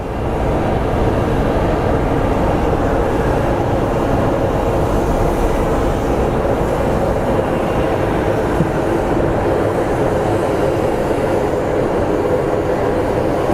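A Boeing 787 Dreamliner airliner at Phoenix Sky Harbor airport produces a loud, steady broadband engine roar that holds without a break for the whole stretch, with no voices.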